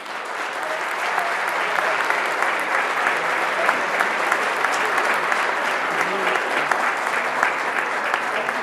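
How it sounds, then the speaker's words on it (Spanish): An audience at a Lent concert in Socuéllamos applauds a marching band, the agrupación musical San Miguel de Villa Robledo, with dense, loud, sustained clapping that holds steady throughout. "Un fuerte aplauso para ellos."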